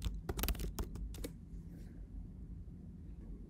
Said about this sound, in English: Then type in the admin password.